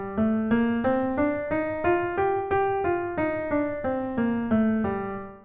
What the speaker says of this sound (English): Take the notes of a minor scale which we explored earlier.